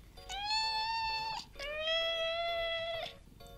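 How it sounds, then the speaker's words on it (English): A pet cat meows twice, each call long, drawn-out and loud, separated by a short pause, with no other sound around it. "I don't think I've showed you guys my cat,"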